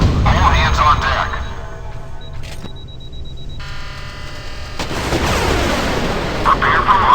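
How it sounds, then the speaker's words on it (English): A submarine in the naval combat game Modern Warships fires a 91RE1 Otvet missile, heard as a loud rushing launch blast with rumbling, under game voice announcements and alert tones. "The missile is away."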